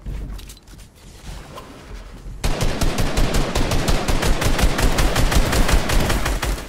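Fortnite gunfire: a faint patter of distant shots, then a loud, rapid automatic burst that runs nonstop for several seconds, close and dominant with no talking.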